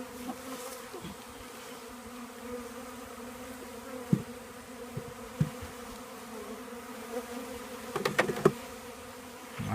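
A box of packaged honeybees gives off a steady, dense buzzing hum that runs throughout, with a few brief knocks and taps over it.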